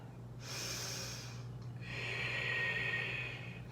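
Deep breaths during a yoga flow, two long audible exhalations through the nose and mouth, close and airy, separated by a short pause with a low hum underneath.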